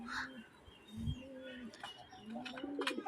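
Pigeons coo on a balcony, close low throaty coos repeated in a loose rhythm, with faint chirps and small background noises around them.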